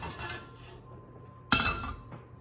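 A metal pan in a home kitchen is set down onto the stovetop with one sharp, ringing clank after quiet background noise, the metallic ring fading over about a second.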